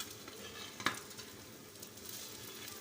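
Egg-coated bread fries on a tawa with a soft, steady sizzle, faint and close, with one sharp tap partway through.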